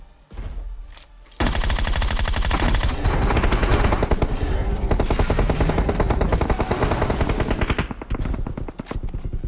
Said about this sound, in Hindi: अब यहाँ पे इतने जगह से गोली पड़ी कि भैया हमारा टीरेक्स यहीं पे कुर्बान हो गया